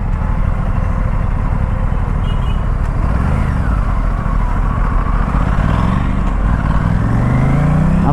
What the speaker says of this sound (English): I am traveling to work on my RS457